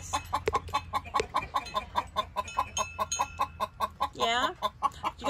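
A hen clucks in a quick, steady run of close, short clucks by the nest box where she has been sitting on two plastic eggs, ending in a louder, drawn-out squawk near the end.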